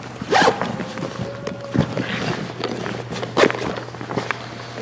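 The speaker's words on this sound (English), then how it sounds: "And then the zipper bag on the lid." Zipper on the lid of a tree-climbing gear bag being pulled open in a few quick, close rasping strokes, separated by soft handling rustles and a low background hum.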